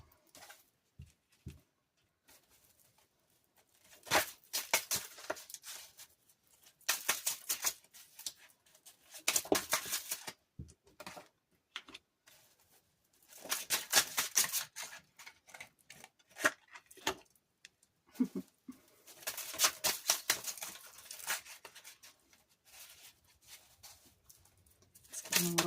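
Tarot cards being shuffled in quick, irregular bursts of riffling and rustling, separated by short pauses and close to the listener.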